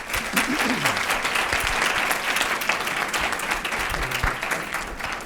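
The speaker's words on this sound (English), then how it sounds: "we should give a round of applause to our speakers" Conference audience at a FAT* 2019 tutorial session applauding the speakers, a dense, sustained wash of clapping from a room full of people, steady from start to finish.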